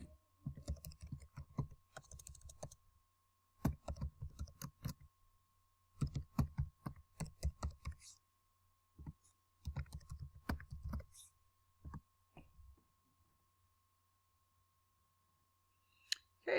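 Fingers type on a computer keyboard to log in, in quiet clusters of rapid clicks separated by short pauses.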